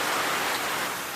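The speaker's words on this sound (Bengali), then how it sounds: "খুবই জোরে বৃষ্টি পড়তাছে।" Heavy rain falling: a dense, loud, continuous hiss of downpour drumming on surfaces nearby, steady throughout with no voices.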